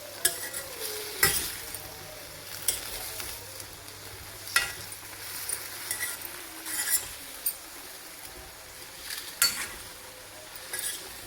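Kashmiri red chili being stirred into a frying mixture, a steady soft sizzle under repeated scraping strokes of a spoon with occasional light clinks, close and moderately quiet.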